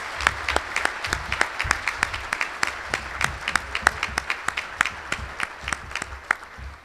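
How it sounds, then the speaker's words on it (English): Rhythmic clapping from a dinner audience at a scholar-leader-athlete awards banquet, with sharp, evenly spaced claps that stand out over a quieter background of mixed clapping. "One more round of applause for our Scholar Leader athletes"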